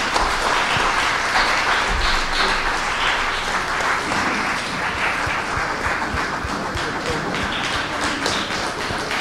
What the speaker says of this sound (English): I think we have to clap again.